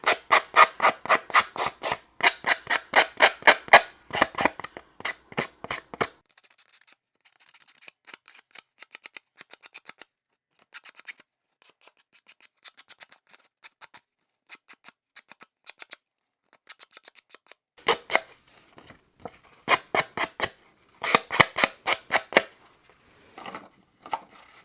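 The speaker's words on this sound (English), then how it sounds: "I'm going to use my sanding block just like the previous parts where I grunged up the cover" A sanding block is rubbed over a paper notebook to distress it, making quick rhythmic rasping strokes in loud bursts. The strokes thin to soft, sparse scratches in the middle before picking up again. No one speaks.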